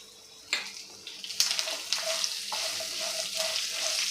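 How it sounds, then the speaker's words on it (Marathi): Okra and potato stir-fry in a pan over a medium gas flame, giving a steady sizzle broken by several sharp scraping stirs, close and fairly quiet, with no talking. "गॅसची फ्लेम मिडियम ठेवून छान असं आपल्याला हे मऊ अशी शिजेपर्यंत परतून घ्यायचं आहे"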